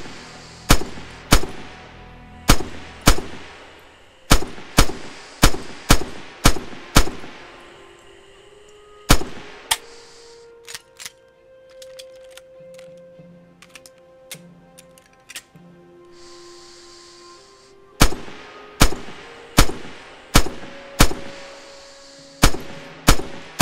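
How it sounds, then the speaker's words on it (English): Rifle fire from the Red Orchestra 2 video game training mission: loud, sharp single shots in quick bursts, a quieter stretch of mechanical clanks and tones in the middle, then another rapid string of shots. "Open fire."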